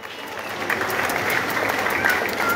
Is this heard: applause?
yes